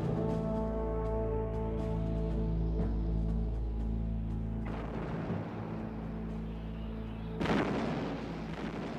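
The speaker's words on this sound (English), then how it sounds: "2 bombs struck her deck, inflicting minor damage. But far more seriously, 2 torpedoes impacted on her port side." Heavy explosions of bombs and torpedoes striking the aircraft carrier Lexington, deep sustained rumbling with a booming impact midway and another sharp blast near the end under droning tones.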